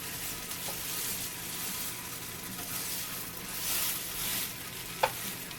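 Instant ramen noodles crisping in a hot pan give off a steady, dense sizzle and hiss with a soft stir, then one brief tap near the end, close and continuous.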